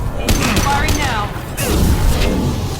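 Gunfire in the sci-fi shooter Mass Effect 2 bursts out in a few heavy, close blasts over a couple of seconds, tangled with voices speaking during combat.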